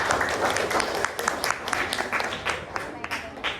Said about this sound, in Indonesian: Beri tepuk tangan yang udah maju ke depan.